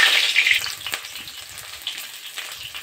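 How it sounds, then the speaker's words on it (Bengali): Onions frying in hot oil with dried red chillies, garam masala and bay leaf for a Bengali-style kachu chicken curry, giving a steady close sizzle that is loudest at the start and then settles into a softer crackle with no talking. "পেঁয়াজগুলো ভেজে নিচ্ছি।"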